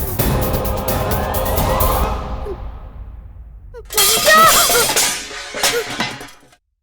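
Dishes deliberately hurled to the floor crash and clatter loudly in a household drama scene: a long ringing smash fading out, a brief pause, then a second burst of breaking and rattling crockery before silence.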